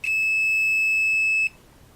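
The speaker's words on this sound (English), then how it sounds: "That's beeping to a via bit just further away." A multimeter's continuity tester on a drop-damaged motherboard gives one steady high electronic beep lasting about a second and a half, clean and close, then stops into quiet.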